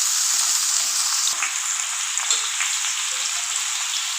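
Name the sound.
young jackfruit and potato pieces frying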